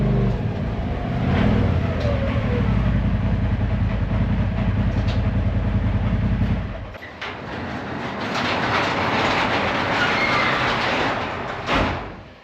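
A ProXP side-by-side UTV rolls into a shop with a loud, steady low engine rumble for several seconds, then a broader, hissier mechanical clatter as it settles inside.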